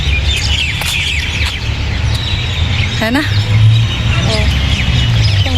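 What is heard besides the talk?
birds chirping in a park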